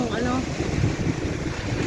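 Heavy typhoon surf and strong wind roar along a Philippine shore, a dense continuous rumble with wind buffeting the microphone and a voice faintly underneath.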